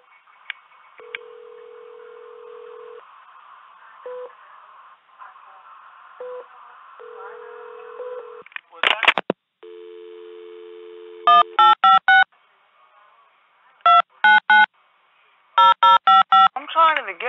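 Telephone call to a police department number: a steady tone, then bursts of keypad dialing beeps followed by repeated ringback tones in short pulses, with faint room noise and no speech during the sounds.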